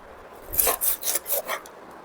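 Knife cutting off a fish's head, four or five short rasping strokes close and fairly loud, each a gritty scrape of blade through flesh and bone, no talk.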